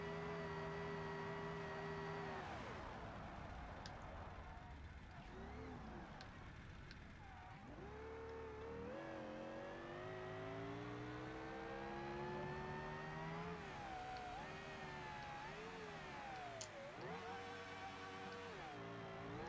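A car engine in BeamNG.drive revs up and down repeatedly in a racing series with a useless sixth gear, its whining tones climbing and dropping through gear changes, loud and steady with no talking.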